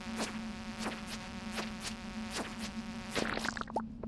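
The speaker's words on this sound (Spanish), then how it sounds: "van a venir un montón de moscas que nos van a venir muy bien" Buzzing flies in the Stardew Valley mine, a steady insect drone with repeated whooshing swipes passing over it, close and moderately loud with no talking.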